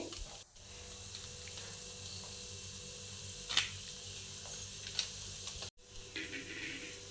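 Beans, carrots and peas fry in a pan with fried onion, turmeric and garam masala for a vegetable biryani: a steady close sizzle and hiss, broken by a few stirring scrapes and clicks.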